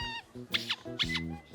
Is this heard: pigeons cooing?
no